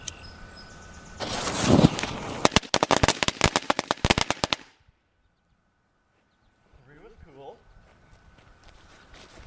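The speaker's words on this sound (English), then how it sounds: "So they're kind of like little mini fireworks, not necessarily firecrackers, but still pretty cool." A homemade mini firecracker made from cut-up fireworks and fast-burning fuse goes off with a loud, rapid string of sharp crackling pops for about three seconds, then silence, followed by a person talking softly.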